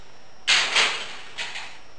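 Oven door being opened in a home kitchen to bake lemon yogurt cookies, heard as a close rattling scrape followed by a second softer clunk a moment later.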